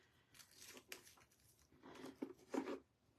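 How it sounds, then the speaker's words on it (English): Scissors snip through aluminum foil, giving faint, crinkly rustling cuts in a few uneven bursts that grow a little louder toward the end. "cut aluminum foil"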